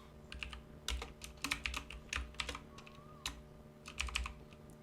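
Fingers tap on a computer keyboard while code is being written for a Bootstrap registration form, the clicks coming in quick, uneven bursts with short pauses, close and fairly quiet.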